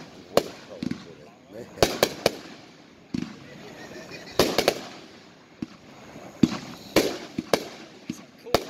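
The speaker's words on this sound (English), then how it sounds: "Cutting Edges Big Bomb, a 4-1 packed, 26 shot, 500 gram cake." Cutting Edge Big Bomb, a 26-shot 500-gram consumer fireworks cake, firing a series of sharp booming shots at irregular intervals with crackling between, heard at moderate distance while people talk nearby.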